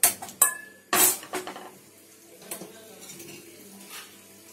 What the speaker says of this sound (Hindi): कढ़ाई लें, उसे गैस पे रखें।